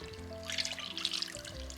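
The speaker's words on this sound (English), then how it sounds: "And pour the remaining sauce on top." Sauce is poured over a roast with onions in a slow cooker, making a soft, faint trickling and splashing over a low background hum.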